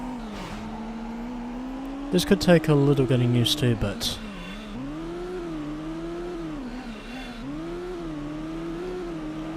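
An engine roars steadily up and down through its gears as a race car is driven in Midnight Club II on PS2, Los Angeles circuit races, with a brief burst of loud crashing mid-clip and someone talking over the top.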